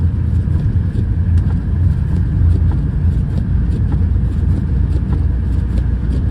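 Ford Transit van driving on a track, a steady low engine drone with road rumble throughout, close and continuous without talk.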